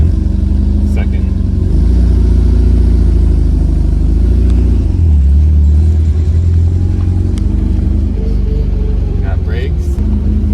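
An MGB sports car that had sat unused for ten years drives in second gear, its engine revving and droning loudly and close, rising and falling in pitch.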